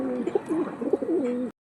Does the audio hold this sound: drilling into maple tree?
no